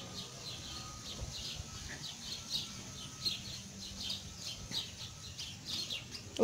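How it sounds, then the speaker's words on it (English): Birds chirp outdoors in a residential setting, repeated high tweets coming in a loose rhythm, faint and somewhat distant over low background noise. "y'all hear the birds all chirpy, chirpy, chirpy, chirpy, chirpy"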